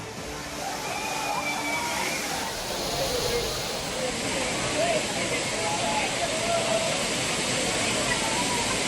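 Courtallam waterfalls in Tenkasi, including the main falls and five falls, give a steady heavy rush of falling water, loud and continuous throughout with faint voices mixed in.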